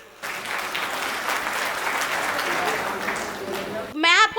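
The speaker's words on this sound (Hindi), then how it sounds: "आप लोग आनंद ले रहे हो तो जरा पीछे तक तालियां लहरा दो अपनी" Applause from the audience at a Hindi kavi sammelan comedy poetry recital, a dense sustained clatter of many hands filling the hall, continuing steadily for about four seconds before a brief swell of cheering at the end.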